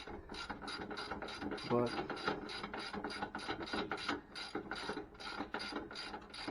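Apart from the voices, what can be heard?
ratchet tightening nut on 2008 Mustang shock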